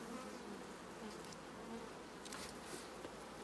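Honeybees buzzing steadily from an open hive during re-queening and splitting, a continuous, fairly faint drone that hums on unbroken for the whole stretch with no talk.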